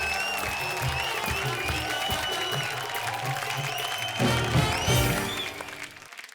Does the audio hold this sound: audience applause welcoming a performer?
yes